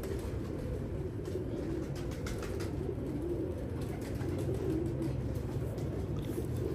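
A female English pigeon cooing close by, low soft coos over a steady rumbling background, with no talk.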